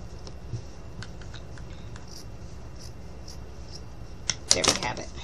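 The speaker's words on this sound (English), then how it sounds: "I'm just going to take my scissors and I'm just going to cut a little bit of this off" Scissors cut a short piece of fabric from a small doll's jacket, one brief crisp snip near the end after a quiet stretch.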